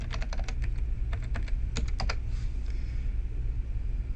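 Keys clack on a computer keyboard as a username and password are typed, a short burst of quick, light taps in small clusters over a low steady hum, fading out toward the end.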